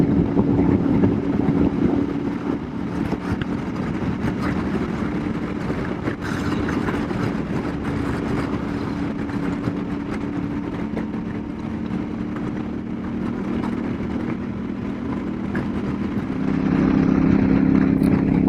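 Royal Enfield Super Meteor fitted with a belt drive and YSS rear suspension cruising along, a steady low engine drone under constant wind rush, without talk.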